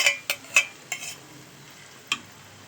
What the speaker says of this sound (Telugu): సిమ్లోనే ఉంచి వేసుకోవాలి, సిమ్లోనే కలపాలన్నమాట ఇది.